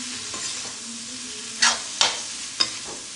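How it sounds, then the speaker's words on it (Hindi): Kundru (ivy gourd) sabzi stirred in a pan over a low flame, a soft simmering sizzle broken by three sharp scraping strokes of the spoon near the end. "अब इसको मिक्स करेंगे और गैस लो फ्लेम पे ही है।"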